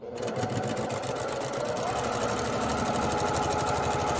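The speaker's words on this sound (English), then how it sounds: "let's go ahead and back stitch there" A sewing machine back stitches a quarter-inch quilt seam for a shadowbox quilt, a steady close mechanical whirring and rapid needle clatter running continuously.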